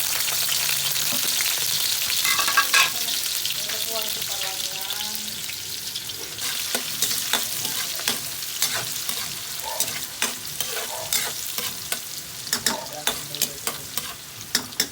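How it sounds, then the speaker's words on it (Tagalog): Garlic and onion sauté in a hot pan with a bright, crackling sizzle, joined by repeated scraping and tapping of a spatula stirring close by, and a voice speaks briefly. "Igisa muna natin yung ating sibuyas at saka bawang."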